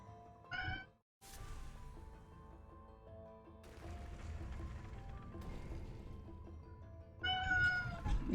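A cat meows close by, with two distinct calls, one near the start and a longer one at the end, over a steady background of game music and sounds from Ori and the Blind Forest.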